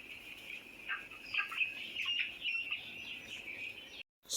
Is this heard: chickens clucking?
yes